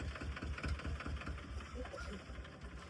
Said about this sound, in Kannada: ಬಂದು ನೋಡಿ ಪವರ್ ಟ್ರ್ಯಾಕ್ 425N, ಪವರ್ಫುಲ್ ಗಾಡಿ ಇದು.